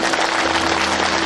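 Loud, dense applause from a crowd welcoming guests at a Shri Ram Katha religious gathering in a village panchayat, steady clapping filling the whole moment with no voices over it.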